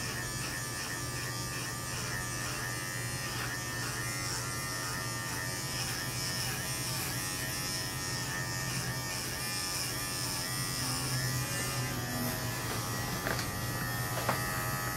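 A Bravura electric pet clipper buzzes continuously and evenly while grooming a Shih Tzu, close up and alone, with no pauses.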